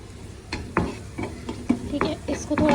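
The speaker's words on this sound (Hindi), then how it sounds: "इसको थोड़ा सा सॉफ्ट कर लेंगे प्याज को इस गार्लिक के साथ।" Onion and garlic are sautéed in a pan, with a light sizzle under a rapid series of spoon scrapes and clanks against the pan over a few seconds.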